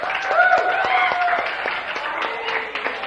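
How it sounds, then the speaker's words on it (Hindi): A lecture audience bursts into applause, dense clapping that swells early and then thins slightly over a few seconds, with no talking over it. "एक बार जोरदार ताली आप सब लोगों के लिए।"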